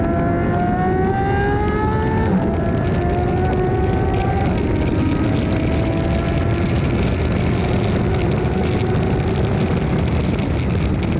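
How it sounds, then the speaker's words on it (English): Porsche and Ferrari exhaust notes on a race track, with rising engine tones from cars passing and then a steady broad roar that continues throughout, loud and with no talk. "There's something really satisfying watching a Porsche pass a Ferrari and listening to the exhaust note."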